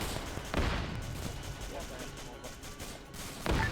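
Sniper fire in the military shooter Arma 3 sounds as two sharp, booming shots about three seconds apart, with a muffled rumble of the battlefield between them.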